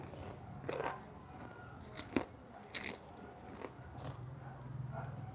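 Jumbo crispy pork chicharon bitten and chewed up close, several sharp crackling crunches spaced unevenly over a few seconds against a quiet background, with no talking.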